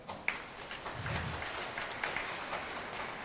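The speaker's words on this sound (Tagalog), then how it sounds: "Pumalakpak ng malakas." An audience at a church homily claps together, a soft, continuous spatter of applause held at moderate distance for a few seconds.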